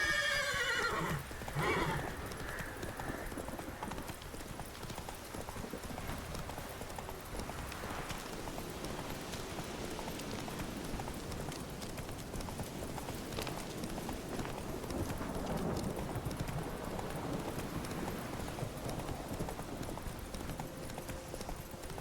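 Roach the horse galloping in The Witcher 3, steady rhythmic hoofbeats with a whinny near the start, faint and continuous.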